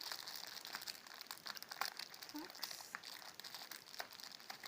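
A plastic packet crinkles faintly as pony toy packaging is opened, with soft, irregular rustles and crackles close by and quiet talk in the background.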